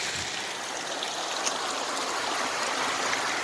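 Steady broadband rush of flowing river water in an outdoor setting with new vegetation and small trees, continuous and even throughout with no voices.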